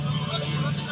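A dramatized low engine rumble of armoured vehicles arriving in a narrow lane, a steady droning hum with a murmur of voices beneath it.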